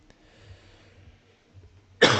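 A single sharp, loud cough from a person with a cold bursts out at the end after a stretch of quiet low rumbling and faint background noise.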